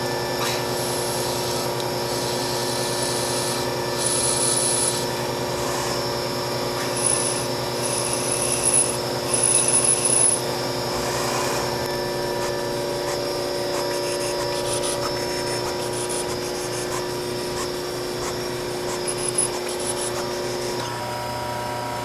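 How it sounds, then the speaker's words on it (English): Drill boring holes in metal for tapping, likely on a water-cooled LED heatsink build: a continuous droning motor whine with faint grinding and rubbing, steady throughout with small bursts of higher-pitched cutting. "Drilling the holes prior to tapping."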